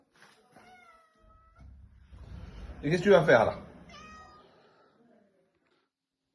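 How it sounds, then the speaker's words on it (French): A hungry domestic cat meows several times up close, a couple of drawn-out calls early and more later, while someone talks to it softly in French. "Oh mon pauvre chat."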